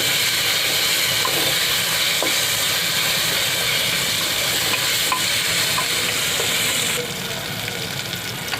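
Onion and green masala frying in a pan on low heat, a steady close sizzle and hiss with occasional stirring scrapes.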